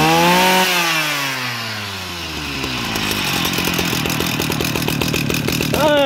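A G3K chainsaw engine runs loud and close, its two-stroke whine dropping from a high rev to a low idle, then climbing into a rapid, rattling pulse before revving sharply again near the end, with no voices.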